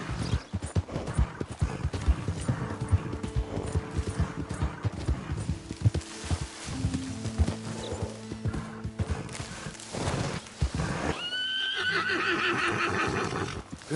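A horse in the Western game Red Dead Redemption 2 clip-clops along with steady hoofbeats for several seconds, then gives a loud, wavering whinny near the end, close by and without talk.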